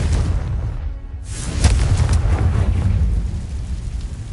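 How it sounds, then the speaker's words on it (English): A Confringo blasting spell detonates in Hogwarts Legacy: after a brief lull, a deep booming burst hits and rolls on as a sustained, rumbling roar with crackling debris. "Confringo."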